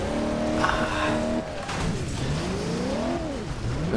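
Video game car chase in Alarm für Cobra 11 with a car ramming into another car's rear, heard as continuous loud engine roar with sweeping revs and tire squeal, no distinct crash impact standing out.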